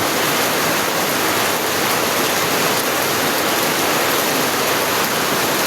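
Heavy rain pours down steadily as a storm approaches, with the road nearby already flooded. The roar is loud, dense and unbroken, with no voices.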